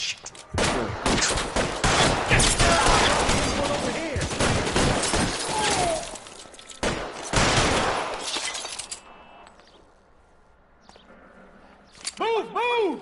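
Gunfire in the video game L.A. Noire comes as dense bursts of rapid shots and fusillades, loud and close, that stop for a quiet stretch before a few more shots near the end, with voices shouting over the shooting.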